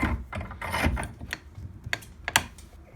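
Remington 760 Gamemaster bolt carrier being clamped in a vise, giving a run of close metallic ratcheting clicks, scrapes and small knocks with no talk.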